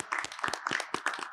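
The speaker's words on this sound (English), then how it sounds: "Let's give Tom a round of applause." Short burst of audience applause at a civic launch event in Rochester, a scattered crowd clapping with uneven, fairly faint claps.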